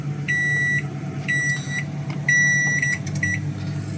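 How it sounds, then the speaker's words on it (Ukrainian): Microwave oven humming steadily while a nearby detector gives repeated high electronic beeps in short bursts, loud and close, with no talking. "Давайте мікрохвильовку вмикаємо"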